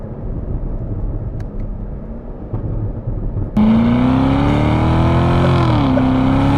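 A 2019 Corvette ZR1 idles with a low, loud rumble, then its engine revs up sharply into a sustained, rising and falling exhaust roar that stays near and strong to the end.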